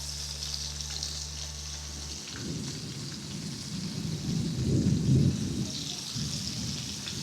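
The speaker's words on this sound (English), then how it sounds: "Drop in the fish them. I'll go fry it till it becomes crispy." Fish frying in hot oil until crispy for a fried fish dinner: a low steady hum gives way after about two seconds to a loud, dense bubbling crackle that swells near the middle and keeps going throughout.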